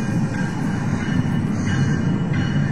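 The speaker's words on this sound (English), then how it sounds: "there's a train going by down here." A train rolls past below, a steady broad rumble of wheels and cars holding at even loudness throughout, heard from a short distance with no talk.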